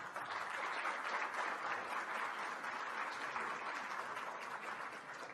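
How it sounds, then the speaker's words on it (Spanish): Audience at an education conference in Peru applauding an Indian embassy chancellery official, steady even applause throughout, moderately distant and unbroken. "a quien lo vamos a saludar con nuestro cariñoso aplauso."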